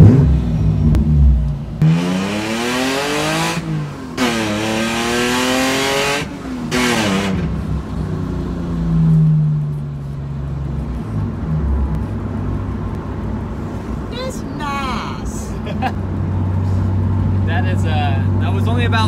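A 2001 BMW E46 with a Stage 2 clutch and CAE shifter revs and accelerates through several gear changes, pitch rising and dropping repeatedly, then settles into a lower steady drone with voices talking over it.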